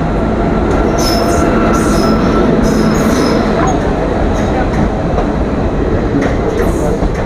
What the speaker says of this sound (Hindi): दोस्तों ट्रेन आ चुकी है 15 मिनट की देरी से।